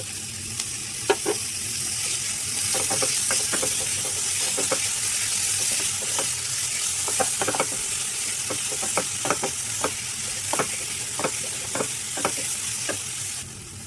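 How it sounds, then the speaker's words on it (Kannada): Paneer frying in a pan for rava dosa gives a steady close sizzle, with repeated sharp pops and spatters scattered throughout and no talk. "ಇದು ಸ್ವಲ್ಪ ಚೆನ್ನಾಗಿ ಫ್ರೈ ಆಗಿದೆ. ಇವಾಗ ಇದಕ್ಕೆ ಪನ್ನೀರ್ ಹಾಕೊಳ್ತಾ ಇದ್ದೀನಿ."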